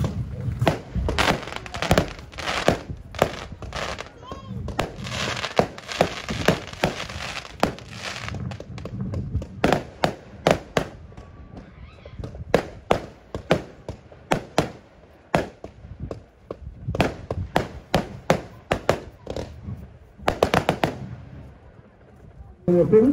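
A 36-shot fireworks cake fires a rapid, irregular string of sharp cracking bangs and thumps over about twenty seconds, loud and somewhat distant, with brief pauses between bursts and crackling tails.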